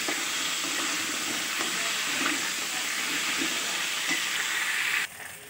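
Peeled taro and potatoes frying in hot oil, a continuous close sizzle with light stirring scrapes that cuts out abruptly near the end.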